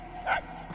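A single short dog bark sounds in the Guardians of the Galaxy video game, a brief yelp that rises and falls over a low ambient game backdrop.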